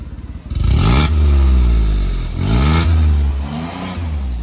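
A Maruti WagonR car fitted with an aftermarket exhaust revs hard, the engine climbing and falling through two loud surges before settling into a buzzy idle, close and without talk.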